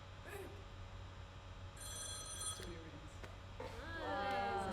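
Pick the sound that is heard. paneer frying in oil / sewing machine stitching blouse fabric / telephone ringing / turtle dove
telephone ringing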